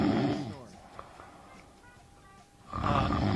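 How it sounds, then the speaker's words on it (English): A dog snoring in rough, rasping bursts, loud at the start and returning strongly near the end after a quieter stretch, with a faint voice audible in the middle. "That's exactly what it is, a dog snoring."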